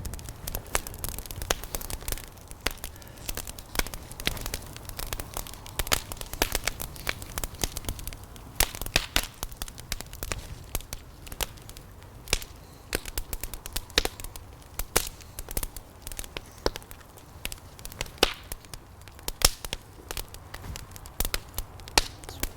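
A fire burns outdoors while birch tea is prepared, giving a steady, dense crackling and popping over a low background rumble throughout, with no talking.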